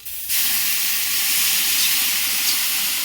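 Splash of water hitting a hot pan while cooking pasta, bursting into a loud, steady hiss of steam and sizzle that starts abruptly and holds strong and close throughout.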